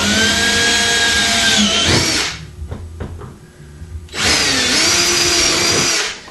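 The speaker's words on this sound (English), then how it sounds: "So before we drill the top one" An electric drill whines loudly for a couple of seconds while drilling a C6 Corvette fender flare, stops for a pause with light clicks and handling, then spins up again for another burst.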